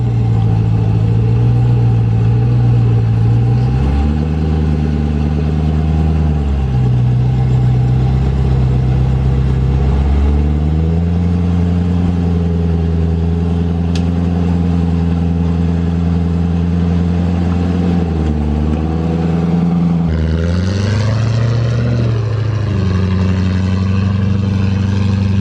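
A V8 Land Rover Discovery engine labours on a rough 4WD track, a loud continuous drone that rises and falls in pitch as the throttle changes, with a brief rev surge near the end.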